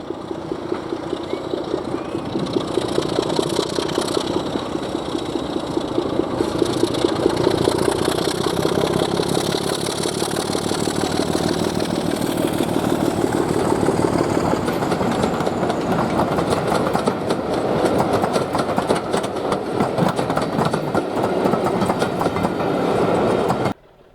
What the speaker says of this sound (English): With Class 31 31128 trailing on the rear, we hear the raspy exhaust note from her 6-cylinder Sulzer power plant